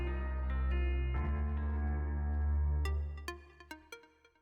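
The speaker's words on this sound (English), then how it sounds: "there's like this bell noise" Synthesized bell melody composed for an indie fighting game, swelling gradually louder from near-silence over steady sustained tones, then ending in a run of bright struck bell hits that ring and decay, with no voices.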